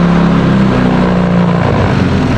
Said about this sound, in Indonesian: Oke, terus suruh naikkan RPM. Kita naikkan RPM.